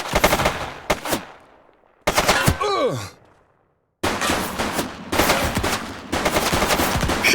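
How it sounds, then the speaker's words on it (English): Bursts of automatic gunfire in the Precinct police game, loud close rattling volleys broken by abrupt silences, with a brief strained vocal groan between them before heavy firing resumes. "Shots fired!"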